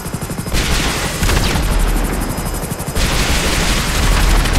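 Heavy gunfire in GTA Online on PS5, dense bursts and booming shots running loud and continuous throughout, with short shifts in intensity.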